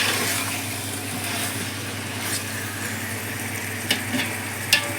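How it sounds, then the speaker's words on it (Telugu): Chicken dum biryani with three leg pieces being stirred in a pot, a steady soft scraping and sizzle running throughout, with a few sharper clinks near the end. "చూసారా మంచిగా కలియబెట్టుకోవాలి ఇలా"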